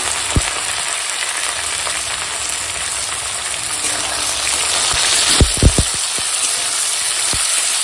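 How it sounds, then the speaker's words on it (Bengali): Potato, tomato and ginger-garlic paste fry with onions and chili in a pan, giving a steady close sizzle that swells midway, broken by a few sharp clacks of a spoon stirring, with no speech. "এখন দিয়ে দেব এই যে কেটে রাখা আলু আর টমেটো আর দিয়ে দেবো আদা রসুন বাটা"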